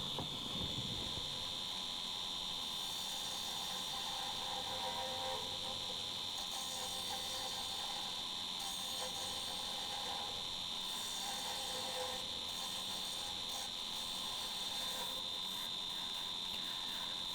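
Final passes on a lathe inside a spalted hawthorn piece bring out a steady high whine with a soft, continuous scraping hiss from the cutting tool, close and even throughout with only slight changes in texture.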